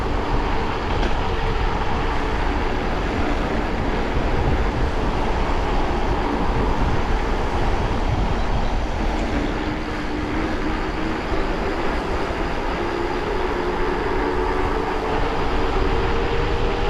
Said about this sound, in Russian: Электричка — это сила.